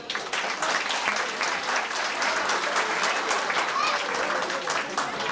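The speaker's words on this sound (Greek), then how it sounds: "Σας παρακαλώ ένα χειροκρότημα." Applause from an audience at a Paralimni municipal end-of-year celebration in 1996, a dense steady clatter of many hands that runs for about five seconds at even loudness.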